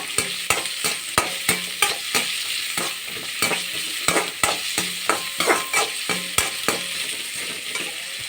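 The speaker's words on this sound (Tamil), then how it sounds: "கடாயில் போட்டு நன்றாக வதக்கணும்" Chopped onions fry in a kadai with a steady close sizzle, while a spoon scrapes and stirs in regular, rhythmic strokes.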